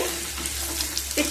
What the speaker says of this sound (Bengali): তেল থেকে সুন্দর একটা স্মেল বেরোতে শুরু করবে সেই সময় কেটে রাখা আলু দিয়ে দেব।